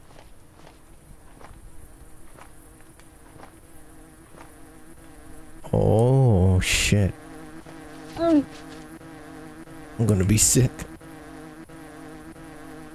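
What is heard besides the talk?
swarm of bees buzzing in a video game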